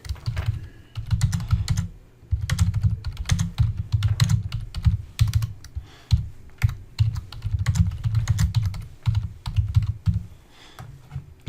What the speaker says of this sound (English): Now we'll test Notepad 2 by opening it up and writing a small text file and saving it out.